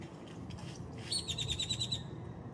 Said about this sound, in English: You mocking me, bird?